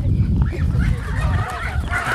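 Ducks quack and honk continuously in a noisy flock, close by, with a busy rasping chorus throughout.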